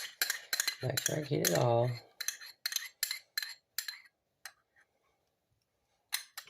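A metal spoon clinking and scraping against a mixing bowl while gathering egg yolk into powdered sugar and butter, a run of sharp, close clinks that thin out into sparse taps, with brief speech near the start.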